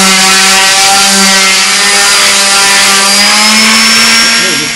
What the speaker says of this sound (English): we've got to sand the whole thing down, get everything as smooth as possible before we try the finishes.